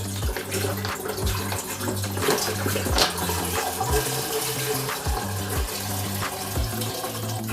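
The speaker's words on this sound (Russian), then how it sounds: "холодную воду я наливаю сразу сюда" Cold tap water gushes steadily into a pot for a mash batch, a continuous loud splashing stream with a rising fill tone and no talk.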